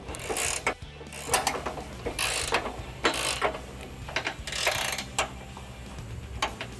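A ratchet clicks in quick, irregular bursts while tightening a rock slider mount on a Nissan Xterra, with sharp metallic clicks close up and short pauses between strokes.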